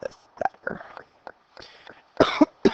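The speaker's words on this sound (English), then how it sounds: "Sorry, it's coughing in your ear." A few short, harsh human coughs in quick bursts, close and fairly loud, followed by a heavier double cough at the end.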